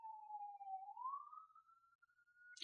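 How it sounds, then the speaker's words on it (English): A single siren tone glides slowly from low to higher pitch and holds there, faint and distant, with a short click at the end and no talk over it. "Hold on, there's a siren."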